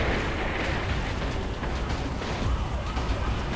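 Rocket explosions in Saints Row 3 form a dense, loud, continuous roar and rumble of blasts that fills the whole stretch without clear breaks.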